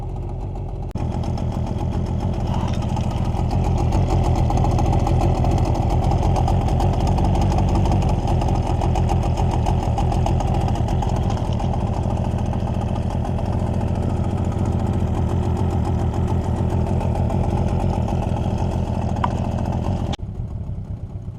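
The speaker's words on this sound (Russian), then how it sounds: "20 минут мы поработали на холостом ходу, и сейчас будем пробовать трансмиссию" A Suzuki 9.9A/DT15A outboard motor idles steadily during break-in on a river, a close, loud, even mechanical drone that holds for about twenty seconds before cutting off abruptly near the end.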